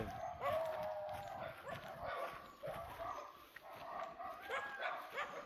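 A dog barks several times in a noisy outdoor setting, the barks fairly close and irregular against steady background sound.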